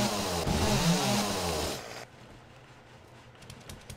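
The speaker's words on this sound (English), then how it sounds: "Chainsaw!" A chainsaw in the video game 7 Days to Die roars loud and steady for about two seconds, then cuts off abruptly, leaving faint game ambience with a few soft ticks.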